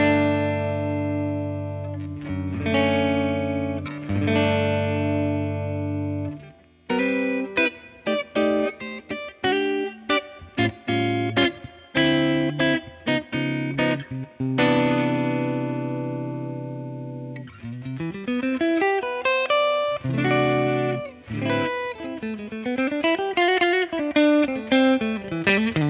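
Collings 290 electric guitar on its P90 neck pickup, with a warm, overdriven tone, plays chords, riffs and bends, ringing continuously for the whole stretch with no voices.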